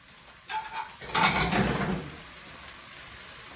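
Minced meat sizzles in a pan on a gas stove: a burst of loud, crackling hiss rises as it hits the hot surface, then settles into a softer, steady frying noise.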